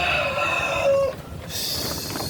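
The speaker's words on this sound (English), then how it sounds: "Talking about chickens, one snuck in." A hen named Icy, a backyard chicken that wandered indoors, gives a few clucks and a short crowing call close by, fairly quiet, with no talking.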